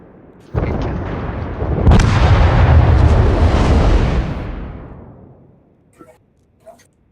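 Heavy main-battery guns of a Des Moines cruiser firing in World of Warships, a sharp onset swelling into a long rolling boom that fades over several seconds, followed by a couple of faint distant pops.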